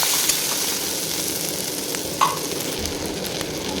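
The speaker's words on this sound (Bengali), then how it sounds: "ভালোভাবে এটাকে নাড়বো যাতে মশলার গন্ধটা" Potatoes and spices stirred in a frying pan for a sour potato curry, a continuous close sizzle with soft scraping and one sharper clink of the utensil midway.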